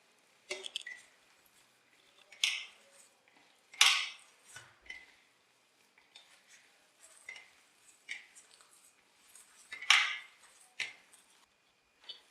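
Bread being mixed by hand into a potato and spice mixture in a bowl for vegetable burger patties: soft, irregular squishing and light clinks, close and quiet, with pauses between strokes.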